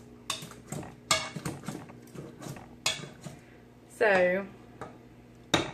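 A metal utensil scrapes and clanks against a pan while stirring applesauce, sharp irregular clinks spaced through the clip, with a person talking in between.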